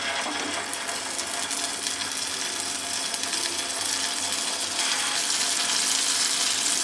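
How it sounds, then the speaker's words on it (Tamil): Small pieces of a potato and rice snack mixture fry in hot oil, giving a steady, hissing sizzle with faint bubbling that grows slightly louder near the end, with no one talking. "இப்போ ஆயிலில் சின்ன சின்னதாக விட்டுக்கலாம்"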